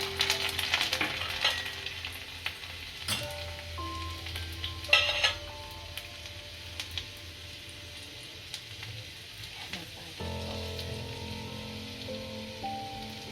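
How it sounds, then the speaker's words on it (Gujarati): Garlic frying in hot oil for spinach bhaji, a soft crackling sizzle with a few louder spits near the start, settling into a quieter steady hiss, close with no talking. "આપણું તેલ સારી રીતના ગરમ થઈ ગયું છે આની અંદર લસણ નકળી નાખીશું"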